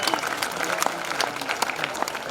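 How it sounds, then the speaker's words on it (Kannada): Crowd applause at a Ram Navami religious gathering, a short burst of dense clapping with distinct sharp claps standing out, fairly soft and steady. "ಚಪ್ಪಾಳೆ"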